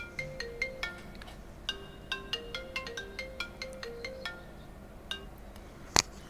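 A phone rings with a repeating electronic melody of short bright tones in quick patterned bursts, fairly faint and close, followed by a sharp click near the end.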